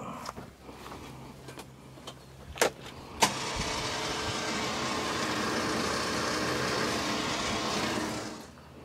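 Electric winch winding its line back in on a Bush Company DX27 rooftop tent install, a few clicks and knocks followed by a steady whirring motor hum that runs continuously until it cuts off near the end.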